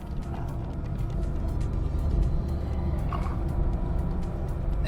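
A Ford Ranger driving straight through a coned lane-change test area, heard from inside the cab as a steady, fairly loud low engine and road rumble with faint mechanical rattles and no talk.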